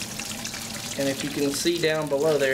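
Very hot sparge water is poured over and showers onto the grain bed during all-grain home brewing: a steady splashing pour under a man's close, continuous talk.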